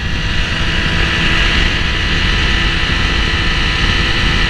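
A 2020 Triumph Daytona 765 leaning through a right-hand turn, its engine a steady loud drone mixed with heavy wind rush, up close.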